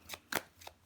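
Tarot cards are handled and slid against each other in three quick, quiet riffling bursts, close up and faint, with no voices.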